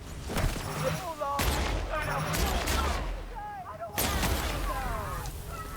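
Gunfire in the video game The Outer Worlds, loud bursts of shots and booming blasts in quick succession alongside whizzing, chirping effects, with game voices calling out over the fighting.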